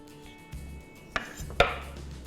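A bottle gourd (lauki) being quickly peeled, with two sharp scraping strokes standing out over a low background hum. The strokes are close and crisp, and no one speaks.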